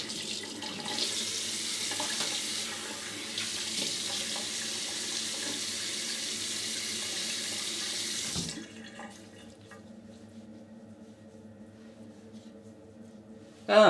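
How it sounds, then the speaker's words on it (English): A tap runs steadily into a sink while a face is rinsed after shaving, a loud continuous splashing that stops after about eight seconds and leaves quieter room sound. "let's have a rinse and see how I did"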